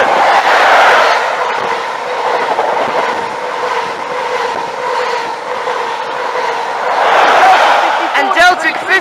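A train passes on the rails, a loud close rumble with rhythmic clickety-clack of wheels that swells, eases and surges again, ending in a few sharp clanks.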